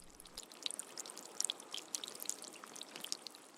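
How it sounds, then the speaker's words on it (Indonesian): Water dripping and trickling, scattered small bright drops and splashes in an irregular patter, faint and close, with no voices. "Air menetes atau gemericik?"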